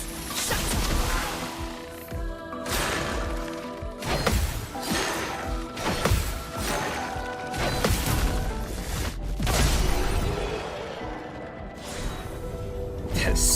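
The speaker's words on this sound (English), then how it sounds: "Ice shatter." Ice shattering attack in the video game Clair Obscur: Expedition 33, heard as loud repeated crashing, smashing impacts with whooshes over a dense game soundtrack, several sharp bursts spread across the stretch.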